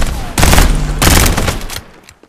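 Gunfire in the battle game Farlight 84, with two loud, dense bursts of rapid shots in close succession, near and punchy, ending in a short fading tail.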